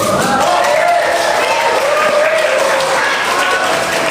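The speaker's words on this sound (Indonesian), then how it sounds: "Tidak perlu tepuk tangan." Visitors in an Indonesian courtroom burst into applause during a trial hearing, producing a dense, steady wash of clapping mixed with crowd voices that fills the room.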